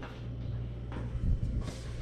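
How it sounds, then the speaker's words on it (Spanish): Corn masa dough for green salsa tamales being beaten by hand in a bowl, giving a few dull, close thumps and slaps that grow busier toward the end, with a faint low hum underneath and no speech. "Ahora le voy a, a, batir"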